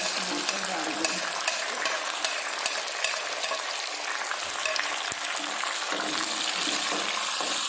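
Chopped tomatoes tossed into browned onions frying in a pan in an outdoor kitchen, giving a steady close sizzle and crackle with some stirring, no talk.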